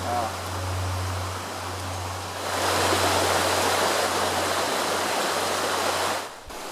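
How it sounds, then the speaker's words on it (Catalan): Water rushes steadily at the Dou del Bastareny, the spring source of the Bastareny river. It is a continuous broadband wash with a low hum underneath, and it grows louder and fuller partway through before it cuts off briefly near the end. "la Dou del Bastareny, el naixement del riu Bastareny"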